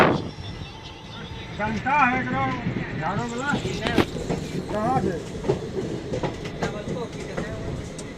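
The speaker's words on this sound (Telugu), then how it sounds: "zero six zero three nine festival fair express అయితే చెన్నై నుండి అయితే ఎగ్జాక్ట్ టైంకి అయితే డిపార్ట్ అయింది" The Festival Fare Express pulls out of Chennai Central station with continuous rumbling and clattering rail noise, heard from nearby with a voice talking over it.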